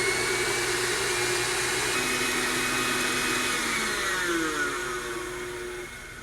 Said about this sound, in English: Turn your mixer on high